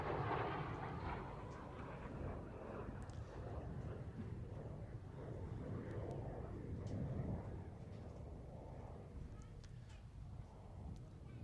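A Hawker Hunter two-seat trainer jet flying an airshow display, a distant, broad rumbling roar that holds steady throughout, faint and somewhat muffled.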